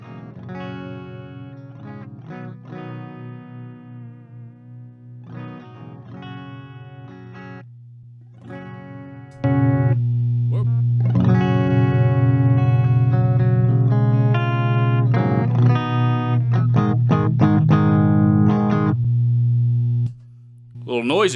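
Clean electric guitar through a compressor pedal in an amp's effects loop, playing sparse chords and single notes, then a louder sustained passage with compressed, even dynamics, ringing and slightly noisy.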